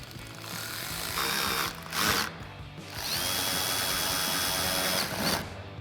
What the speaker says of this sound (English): Next we'll reinstall our two T15 Torx screws in our fender liner